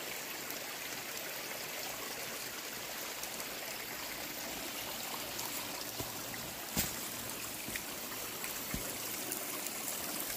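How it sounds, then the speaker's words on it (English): Spring water trickles steadily off the Red Hill Trail in the Catskills, a constant soft, even wash of running water with a faint tap or two and no voices. "I'm here at the spring just off of the Red Hill Trail in the Catskills."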